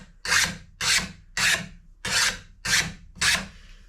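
A chainsaw bar is filed smooth by hand, giving six steady, evenly spaced rasping strokes, close and loud, with short pauses between them and no talking.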